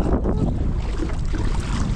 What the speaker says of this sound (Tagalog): Talagang malakas yung hangin.